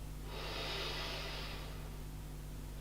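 A single slow breath drawn in through the nose, soft and airy, rising then fading over about a second against a quiet, steady hum.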